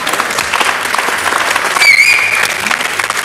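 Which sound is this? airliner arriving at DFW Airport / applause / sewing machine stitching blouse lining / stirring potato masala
applause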